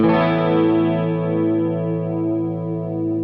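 A Les Paul electric guitar played through a Jackson Audio New Wave stereo analog chorus pedal rings out one full strummed chord that sustains and slowly fades, shimmering and close.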